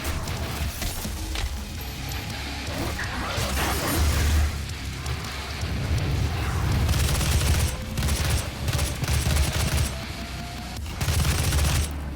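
Heavy gunfire and crashing blasts fill a Doom 2016 firefight, with dense bursts of shooting, booming impacts and metallic mechanisms running nearly continuously at close, loud level, a fitting match for shotgun fire amid the chaos.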